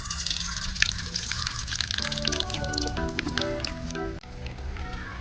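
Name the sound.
mustard seeds spluttering in hot coconut oil in a pan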